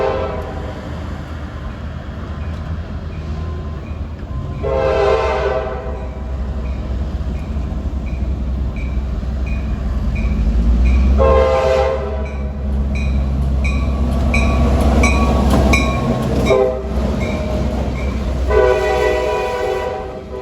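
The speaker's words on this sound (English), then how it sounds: "here comes something I was not expecting. Looks like an NS local, the H55 maybe?" A Norfolk Southern local freight train with GP38-3 locomotives passes near a commuter rail station, a loud steady rumble of rolling cars punctuated by several long blasts of its horn.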